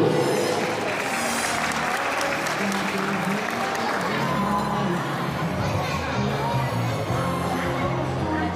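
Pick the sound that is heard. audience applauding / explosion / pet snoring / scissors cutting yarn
audience applauding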